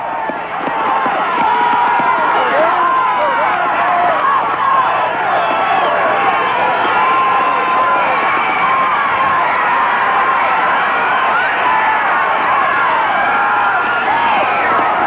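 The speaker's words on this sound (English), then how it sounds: "With his hometown fans cheering him on" Hometown fans cheering a speedskater at the 1988 World Sprint Speedskating Championships, a loud, sustained crowd roar with shouts and whoops that holds steady throughout.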